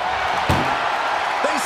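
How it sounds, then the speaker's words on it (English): A door slams shut during a WWE 2K24 wrestling match in the ambulance finish, giving one sharp, solid bang partway through over steady crowd noise and commentary. "They slammed the door."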